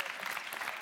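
Studio audience applause on a French TV talk show, a thick continuous patter of many hands clapping together at a steady volume for under a second.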